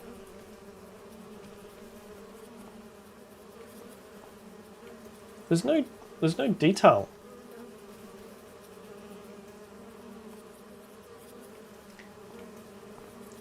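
Bees buzz as a low, steady drone in Farming Simulator 25 around a beehive, continuing through a short burst of talk in the middle.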